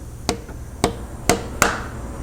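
Four sharp metallic taps strike the tappet cover on a 2018 Harley-Davidson Street Glide to break it loose, evenly spaced and close up, with the last blow ringing slightly longer.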